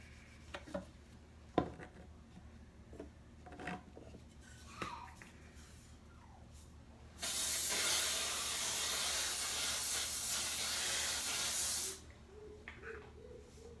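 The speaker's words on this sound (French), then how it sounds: "Du coup j'ai mis du déo" Close, loud aerosol deodorant spray in a steady hiss lasting about five seconds, set amid quiet bathroom handling noises during a morning routine.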